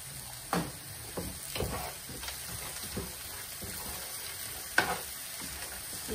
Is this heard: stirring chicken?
yes